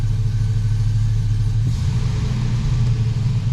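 A Sierra or Silverado truck with a faulty 4L80e transmission idles with a loud, steady low engine rumble, and a brief shift in tone about halfway through as it slowly drops into gear; no one speaks.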